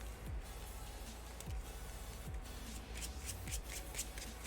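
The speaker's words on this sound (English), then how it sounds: "So we're going to shuffle Ticket to the Multiverse into our deck." Playing cards being shuffled into a small deck for a Marvel Champions game: several quick riffles and soft flutters in a row, quiet and close with no talking.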